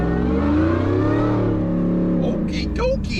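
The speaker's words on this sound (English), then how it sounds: "It's so loud that if something's wrong with the engine, you won't be able to hear it." A Toyota Supra MKIV turbo engine revs loudly up close, a droning rising pitch that holds and then drops, with a voice breaking in near the end.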